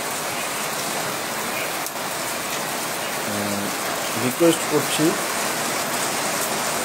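Heavy rain pours across Deganga as a steady, broad hiss of downpour, with a voice talking over it for a few seconds near the middle.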